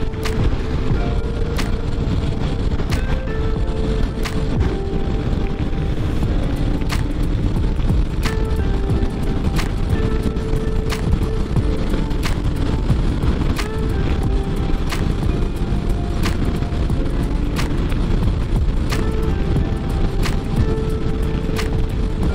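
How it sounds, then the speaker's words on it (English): A 2022 Honda Forza 125cc scooter accelerates on a highway, its engine droning steadily beneath loud, constant wind rush with regular ticking clicks throughout. "now here I'm in the highway and I want to accelerate"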